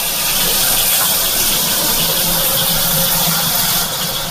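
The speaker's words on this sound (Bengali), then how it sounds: "এই যে দিয়ে দিয়েছি, এগুলো একটু লাল লাল করে ভাজবো।" Marinated chicken frying in a hot pan, a loud, continuous sizzle and hiss close up, steady throughout with no talk.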